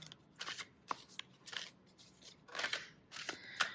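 Tarot cards being shuffled by hand, a series of crisp riffling and slapping bursts with short pauses between them, close and fairly quiet, with no voice.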